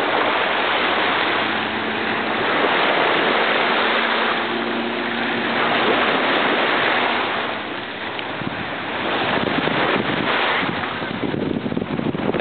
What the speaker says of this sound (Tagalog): Ay, lakas ng alon ngayon, no?